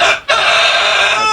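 A loud, close Aseel rooster crows with a sustained, raspy call that breaks off briefly and resumes, holding strong until the end.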